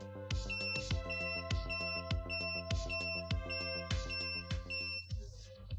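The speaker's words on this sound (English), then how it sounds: "A beep sounds, apparently because the other components that should be connected to the board are missing" Sharp electronic beeps from an Allpowers R600 power station board with components disconnected repeat in a steady rhythm over a continuous tonal hum, loud and close, with no voices.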